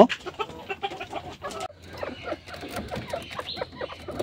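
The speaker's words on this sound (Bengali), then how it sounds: "মুরগি ডিম পাড়ার প্রস্তুতি নিচ্ছে" Desi hens clucking in a coop as they get ready to lay, a busy run of close, repeated clucks and short calls from several birds, loud and continuous.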